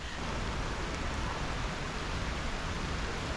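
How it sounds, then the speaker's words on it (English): Heavy rain pours down in Ubud, Bali in a steady, dense roar, constant throughout with no pauses and no voices. "it started pouring water now, like it's raining a lot"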